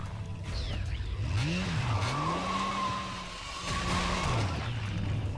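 A motorcycle skids and its tires squeal in the action video game Bayonetta, a continuous loud engine drone with swooping pitch bends and screeching slides over steady game noise.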